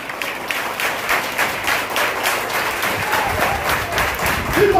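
A church congregation bursts into sustained applause, dense rhythmic clapping from many hands in a large room, steady and loud for the whole stretch.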